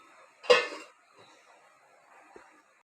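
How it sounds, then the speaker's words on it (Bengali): A lid set down on a pot of hilsa fish steamed with mustard and yogurt, one sharp close metallic clank followed by a short ringing decay and a faint later tap. "এবার ঢাকা দিয়ে দিচ্ছি।"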